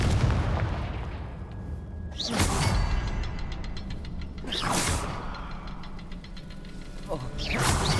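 Confringo spell blasts go off in Hogwarts Legacy, three sharp whooshing bursts spaced a couple of seconds apart, each with a bright crackling tail over a steady ambient hum.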